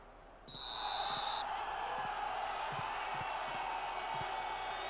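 A stadium crowd of a few hundred fans at Croft Park murmurs and cheers in Football Manager 2020, a steady broad roar rising after a short whistle, with faint thumps beneath.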